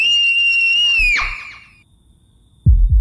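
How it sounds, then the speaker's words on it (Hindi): A piercing, sustained high shriek for a horror cartoon, a scream echoing through a village at night that falls away into silence before low thuds at the end. "इसी समय गांव में एक भयानक चीख गूंजी।"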